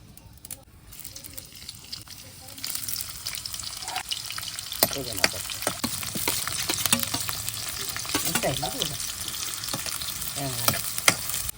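Green chillies fry in a pan over a wood-fired stove while a Telangana-style chicken curry is made: a close, busy sizzle with repeated stirring scrapes and crackles rising partway through.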